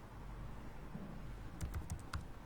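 Typing on a computer keyboard while entering HTML heading text during a web design lesson: a brief cluster of faint, quick key clicks near the end over a low room hum.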